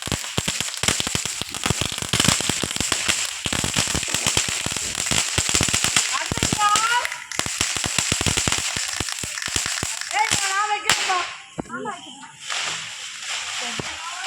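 Rapid strings of Diwali firecrackers crackle and pop continuously, dense sharp bursts going off nearby, with people's voices calling out over the noise.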